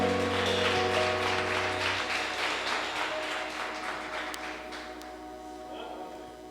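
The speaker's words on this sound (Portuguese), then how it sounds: "Aplauda ao Senhor." Congregation applauding during a church service, a dense wash of clapping that starts loud and gradually fades, with a sustained musical tone underneath.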